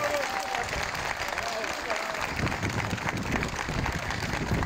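An audience at a ceremony marking a mayor's second election as chairman applauds steadily, a dense wash of clapping that is moderately distant and even throughout.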